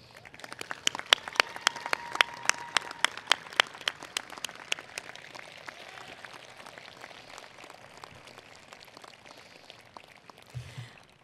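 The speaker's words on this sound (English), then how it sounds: "Anne, Margaret, Nathan, and Abigail, would you all stand so we can welcome you with a round of applause?" Applause at a university presidential inauguration ceremony, loud clapping in a large hall with sharp individual claps at first, gradually thinning and fading into room ambience.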